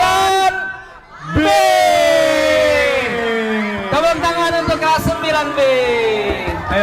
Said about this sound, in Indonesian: Tepuk tangan untuk kelas 9.